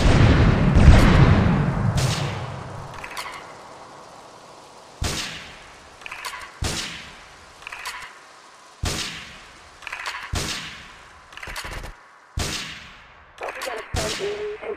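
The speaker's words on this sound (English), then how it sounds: "Investigate reports of gunfire and explosions" GTA 3 gunfire and explosions: a rumbling blast at the start fades out, then sharp gunshots follow at a steady pace of roughly one every second or so, each with a short echoing tail.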